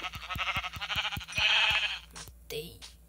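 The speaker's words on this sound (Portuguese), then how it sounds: "Ali uma ovelha, gente. Vamos pegar a ovelha." Sheep in the Minecraft video game bleat several times in a quick run, loud and close, followed by a few brief game effect sounds.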